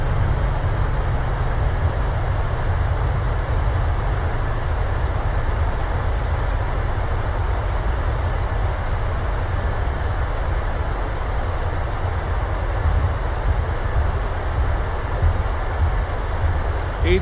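Steady, loud broadband roar of a PMDG 737-700's thrust reversers during landing rollout in Microsoft Flight Simulator, a continuous rushing engine noise with no pauses.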